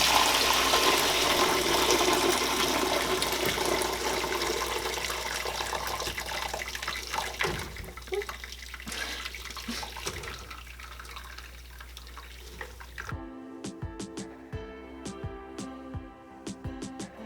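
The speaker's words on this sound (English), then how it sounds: "we're going to strain our broth" Homemade vegetable broth strained through a colander into a big pot, a steady rushing pour that gradually thins and trickles out, close and alone, ending in a few faint clinks.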